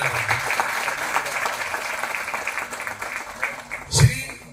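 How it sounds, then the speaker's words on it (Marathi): An audience at an event honouring newly elected Marathi children's theatre office-bearers gives a dense burst of clapping that rises and fades, with a voice speaking over it. "टाळ्या जरा जोरात झाला."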